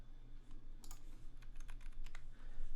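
Keystrokes on a KBD67 MKII mechanical keyboard fitted with a Sorbothane plate mod, a quick run of close, crisp clacks in an irregular typing rhythm over a low steady hum, with no talking.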